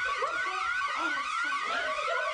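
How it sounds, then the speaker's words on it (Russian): An alarm sounds inside a house with a loud, continuous electronic wail, its rising, sweeping tones repeating in a fast siren-like pattern, with no voices. "Тут есть сигнализация."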